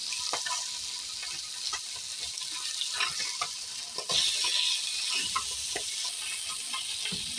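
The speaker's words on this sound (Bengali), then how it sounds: "এক সাইড উল্টে দিচ্ছি। একটু লাল লাল করে ভেজে নেবো।" Fish pieces frying in oil in a karai give a steady, close crackling sizzle with small popping bursts; a brief stir or flip scrapes through partway, and there is no talking.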